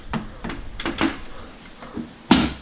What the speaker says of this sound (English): When the watch goes back in the case and the cupboard door shuts.